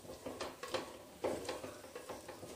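Paneer gravy roasting in oil in a pan, soft sizzling with repeated stirring scrapes and light utensil knocks in an uneven rhythm, close and fairly quiet with no talk.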